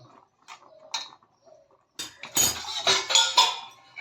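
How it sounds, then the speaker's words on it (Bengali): A lid set onto a pot of fish with a few clinking metallic knocks close by, following a few soft earlier taps, without speech. "ভালো করে ঢাকনাটা দিয়ে দিলাম"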